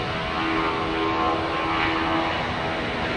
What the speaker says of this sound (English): Qantas A330! Yes! Landing here in the north side